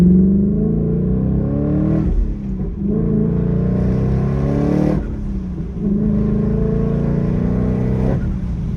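A twin-turbo S650 Ford Mustang engine revs hard in long, loud pulls, dipping briefly between bursts, rough and throaty throughout.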